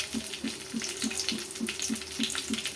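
Hot tempering sizzles in a pan over small garlic cloves, a steady close crackle under a rhythmic, evenly spaced low thudding.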